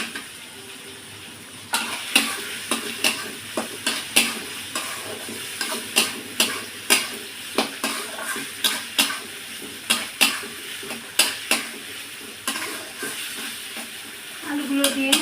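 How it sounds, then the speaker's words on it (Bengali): Fried potatoes sautéed in tomato masala in a pan: a soft sizzle runs under a steady series of sharp spatula scrapes and clacks against the pan, repeated at a brisk, even rhythm. "এবার আমি দিয়ে দেব ভেজে রাখা আলুগুলো।"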